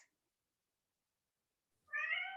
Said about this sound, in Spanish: Aquí tengo a mis gatos gritando.